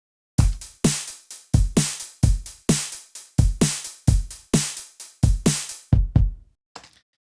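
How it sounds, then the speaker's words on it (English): A synthesized, realistic-style closed hi-hat plays a steady repeating pattern of about fourteen crisp, close hits, each with a short snappy decay, alone and with no voices. "today I'm going to show you how to make this synthesized hi-hat sound"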